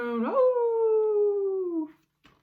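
Voices imitating wild things howling, a single long howl that rises sharply, holds and slowly slides downward before trailing off, close and loud with a faint sound after.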